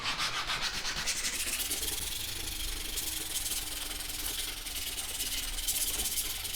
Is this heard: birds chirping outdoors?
no